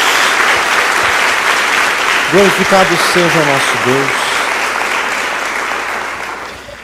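Congregation applauding in a church praise service, a loud sustained wash of clapping throughout while a voice speaks over it midway, fading slightly at the end.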